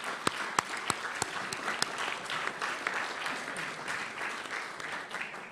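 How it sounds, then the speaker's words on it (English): Audience applause for a guest speaker at a press club luncheon, with a few sharp claps standing out at the start before settling into steady, moderately distant clapping throughout. "How about a round of applause for our speaker today?"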